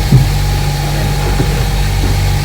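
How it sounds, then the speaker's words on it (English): A sailboat's inboard engine runs inside the cabin, giving a loud, steady low hum and idle with a constant rumble and no variation across the short stretch. "So I got this engine running, making a little bit of heat."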